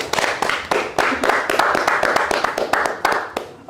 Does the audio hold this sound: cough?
no